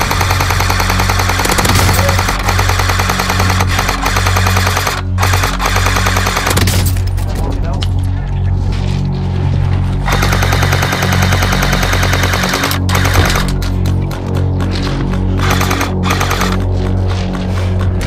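An airsoft M1919 machine gun fires sustained loud bursts during gameplay in an abandoned hospital, dense rattling fire close by with a continuous low hum underneath.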